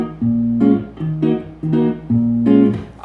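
The intro riff of a tune played fingerstyle on guitar, a few plucked two-chord stabs repeating in a lilting, syncopated rhythm, close and clear with no talking.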